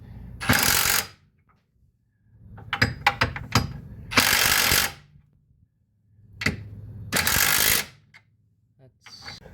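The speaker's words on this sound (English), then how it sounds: "I tighten the bolts up on the other side there" A ratchet wrench clicks in several loud, close bursts as bolts are tightened on a C4 Corvette front leaf spring, with brief gaps between the runs of rapid clicks.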